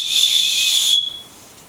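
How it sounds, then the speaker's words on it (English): A shrill signaling whistle from a Snugpak Response Pak hiking waist pouch, one sustained piercing blast lasting about a second that then cuts off, loud and close with no talking. "It also has a whistle for signaling"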